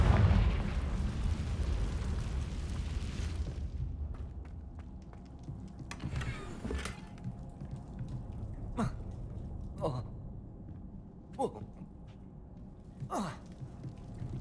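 Spell blasts from the Confringo fire spell in Hogwarts Legacy, a heavy rumble at first and then several short sharp bursts spaced a second or two apart, moderately loud against a low game ambience.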